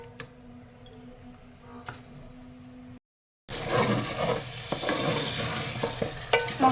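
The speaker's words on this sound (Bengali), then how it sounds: "ভালো করে মশলাটা কষায় নিতে হবে" Spice paste with cumin powder, garam masala, salt, turmeric and chili powder stir-fried in a pan: quiet ticking scrapes, a short silence, then a loud, close sizzle with repeated spatula scrapes and knocks.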